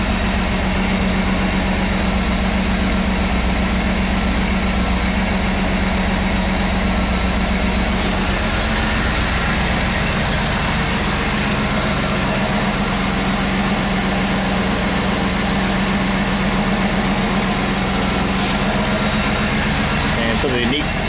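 A 1993 Chevrolet Camaro Z28 Indy Pace Car with a 275-horsepower LT1 350 V8 idles steadily after a cold start, a deep, even rumble heard up close that shifts slightly partway through and continues throughout.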